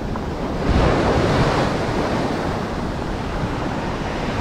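Ocean waves breaking on a Costa Rica beach, a continuous roaring wash of surf with wind buffeting the microphone, swelling briefly near the start and then holding steady.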